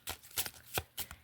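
A Bluebird Lenormand card deck is shuffled close up in four or five quick, crisp riffling bursts separated by short pauses.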